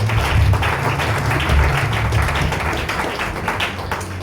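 Church congregation clapping and cheering in acclaim of Jesus, a loud, steady wash of applause filling the room throughout, with low hum and murmur beneath.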